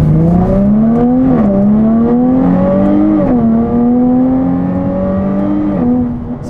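A Jaguar F-Type V6 S accelerates hard, heard loud and close from inside the car, its engine note climbing steadily, dropping briefly at two gear changes, then climbing again.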